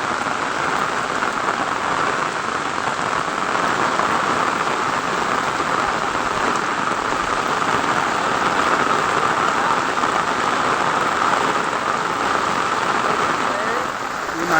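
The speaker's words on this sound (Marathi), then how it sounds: "हे बघा आता पाऊस आलेला आहे" Rain falls on rice paddy fields during transplanting season in a Konkan village in Maharashtra, making a steady, dense, close patter that stays even and continuous throughout, with no voices.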